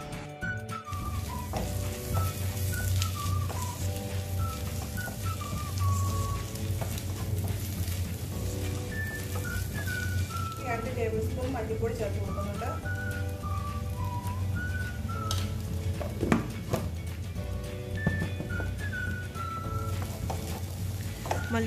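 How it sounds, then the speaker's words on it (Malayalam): Chili powder and Kashmiri chili are stirred into a sizzling Kerala-style fish masala, a continuous close frying hiss with stirring scrapes and a faint melodic whistle running in the background. "ഇതെല്ലാം ഇട്ടിട്ട് നന്നായിട്ട് നമുക്ക് മിക്സ് ചെയ്ത് കൊടുക്കാം"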